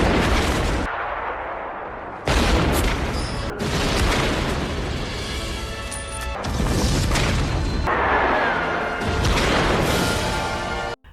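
Loud explosions and gunfire from a battle scene in a Stalingrad war film, with several heavy booming blasts that come in bursts and fill the whole stretch without a break.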